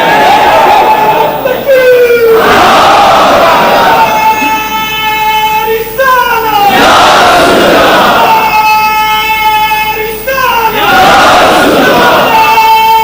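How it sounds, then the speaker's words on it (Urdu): A large crowd at a religious rally chants slogans in loud, repeated surging waves, each shout swelling and fading about every four seconds, heard close and at full volume. "نعرے حیدری بل کر کے نعرہ لاؤ"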